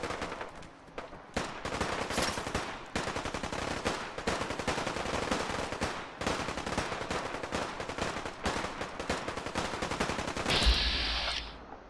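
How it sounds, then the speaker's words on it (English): Rapid machine gun fire in Fallout 4 rattles almost nonstop in long bursts, loud and close, ending with a sharp electronic blip. "Sounds like there's a machine gun going around here."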